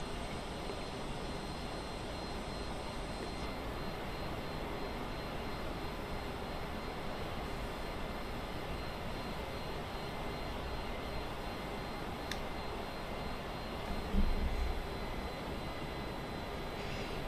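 Steady airplane engine drone in the Microsoft Flight Simulator video game during a fly-over of Tokyo, Japan, a constant broadband hum holding level throughout with one brief bump near the end and no talk.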